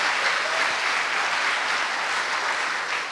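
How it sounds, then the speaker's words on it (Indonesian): Studio audience at the Indonesian talk show Kick Andy breaks into dense, steady applause, a loud, even wash of many hands that holds for the full three seconds with no talk over it. "kita berikan tepuk tangan sekali lagi untuk teman kita yang beruntung ya"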